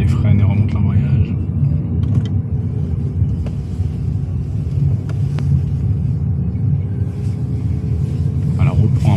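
Inside a car during a French driving lesson on roundabouts, a steady low engine and road rumble continues under an instructor's talk, with a few faint clicks and knocks from the pedals and controls.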